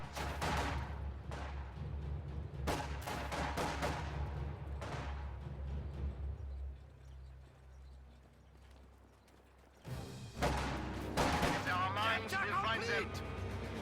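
Crackling rifle gunfire from squads fighting in a World War II strategy video game, sharp repeated shots in uneven bursts that drop away briefly, then return louder, with a commentator talking over the battle.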